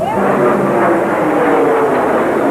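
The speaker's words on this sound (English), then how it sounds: "A very large plane just flew directly over my building" A very large plane passes low overhead on a clear fall morning, a loud, continuous roaring rumble with a brief rising whine at the start, filling the scene without pause.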